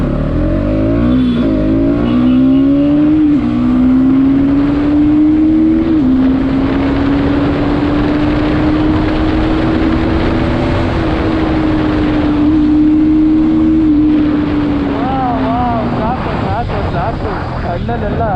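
A Bajaj Pulsar NS200 200cc motorcycle runs on a test ride, its engine droning and rising in pitch as it accelerates, loud and close, with wind rush and someone talking over it.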